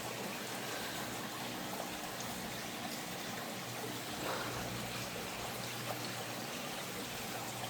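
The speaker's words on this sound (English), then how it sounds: "Gotta let the water flow." Water trickles and splashes steadily through a small backyard pond or stream choked with algae, a dense continuous rushing wash with no pauses, close by and fairly loud.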